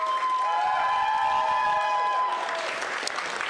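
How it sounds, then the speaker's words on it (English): An audience at a fighting game tournament's main stage applauding steadily for several seconds, a dense wash of clapping with a sustained tone ringing underneath, tapering slightly toward the end. "one more big round of applause"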